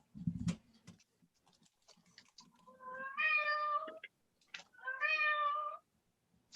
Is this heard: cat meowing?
yes